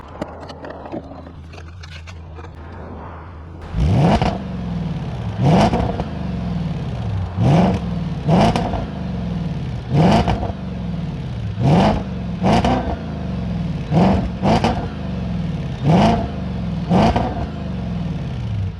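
A 4.2-liter V8 in an Audi S5 coupé with a manual gearbox is revved hard about a dozen times in a steady rhythm, each blip rising sharply and falling back to a loud, close idle, with no talking.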